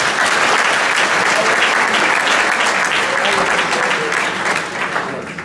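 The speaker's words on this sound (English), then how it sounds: "So I'd like a round of applause for Billy." Sustained applause from a workshop audience at a real estate seminar, dense and steady throughout, tapering slightly near the end.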